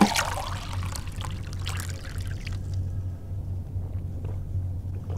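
Water pours into a glass in the Fahrenheit video game, a steady trickling splash over a constant low rumble that fades after a few seconds, with no one talking.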